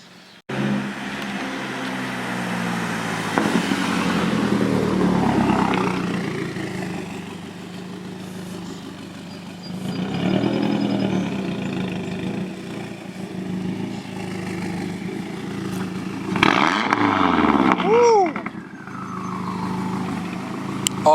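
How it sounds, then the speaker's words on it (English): A motorcycle engine roars and drones steadily on the road, rising in a few revving surges, with a vehicle passing close by near the end. "take that thing out on the road so y'all can hear how it roars"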